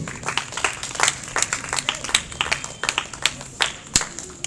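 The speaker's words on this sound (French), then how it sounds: "Acclame pour la gloire de Jésus." A church congregation claps and applauds during a sermon, with dense, lively clapping that keeps going in uneven surges and sharp peaks. Voices faintly mix into the applause.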